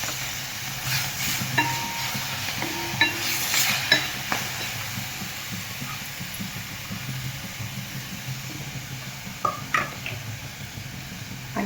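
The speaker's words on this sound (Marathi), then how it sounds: "आता हे सगळं मिक्स करून घेऊया" Masala and salt fry in a pan for a Satara-style urad dal curry, a steady close sizzle under the occasional scrape and clink of a spoon stirring, with no voices.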